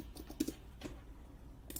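Light keystrokes on a computer keyboard while working in Notion, a handful of soft quick taps in a quiet room, faint and close.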